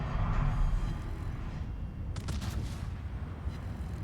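Naval guns fire in World of Warships, booming salvos that crack through a dense, steady low rumble of battle noise over a few seconds.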